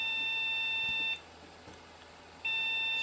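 A mini Pentium PC motherboard with a memory fault gives steady high-pitched beep codes, breaking off briefly in the middle before resuming, close and alone with no talk.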